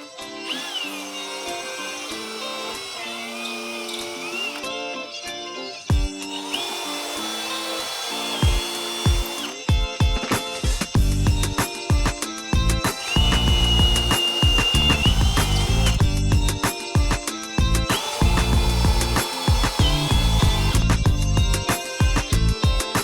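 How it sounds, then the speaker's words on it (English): Power drill whining in repeated bursts, starting and stopping as it bores holes through a boat hull, with tonal motor pitch shifts and clattering in between. "drill in these holes for the back plate, as well as a hole for the through hull fitting"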